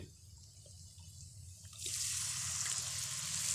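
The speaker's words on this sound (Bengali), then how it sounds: "তো এরপরে আমি একটু পানি দিয়ে দিলাম।" Water is poured into a pan of spices frying for an egg curry. A faint sizzle gives way to a brighter, steady hiss and trickle about halfway through. The sound is quiet and close.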